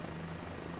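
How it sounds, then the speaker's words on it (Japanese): A helicopter hovers and flies in Microsoft Flight Simulator over the Nürburgring, a steady low rotor drone with a constant engine hum, brief and even, no voices. "それでもどんどん先進んじゃうんですよ、ヘリコプターがね"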